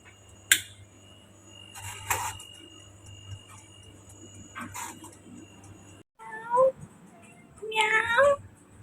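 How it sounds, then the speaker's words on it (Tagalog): A cat gives a few short meows near the end, after a quiet stretch of faint clicks and background hum, with someone speaking softly nearby. "Meow, tong pusa na to lagi nakasunod sa akin."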